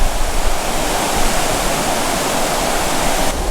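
Water rushes over a weir in a loud, steady roar of broadband noise, constant and close, with no voices.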